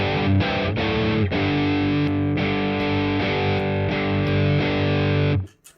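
An electric guitar driven through a distortion pedal with a clean volume boost plays thick, saturated sustained chords with a few quick changes, loud and alone, then cuts off sharply at the end.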